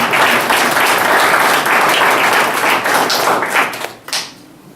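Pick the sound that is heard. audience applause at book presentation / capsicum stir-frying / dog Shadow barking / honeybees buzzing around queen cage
audience applause at book presentation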